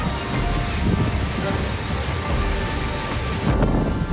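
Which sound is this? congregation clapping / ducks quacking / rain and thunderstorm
rain and thunderstorm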